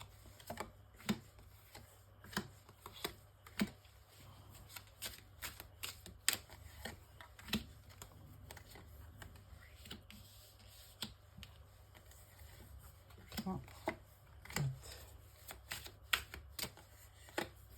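Tarot cards are drawn and laid out for a nine-card spread: a quiet run of sharp little taps, flicks and shuffles, irregular and close, with no talk.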